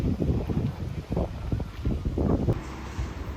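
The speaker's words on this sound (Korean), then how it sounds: "근데 바람이 너무 불어. 거의 어, 태풍이야, 태풍." Strong, gusty wind outdoors near a palace fountain in Salzburg, buffeting the microphone with loud low rumbling bursts that rise and fall over a few seconds.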